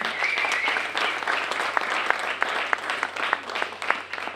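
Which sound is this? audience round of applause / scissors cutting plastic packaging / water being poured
audience round of applause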